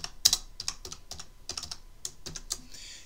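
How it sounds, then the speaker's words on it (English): A search is typed on a computer keyboard: quick, close, fairly quiet key clicks in an uneven run, with brief pauses between bursts. "let's type in George Smith"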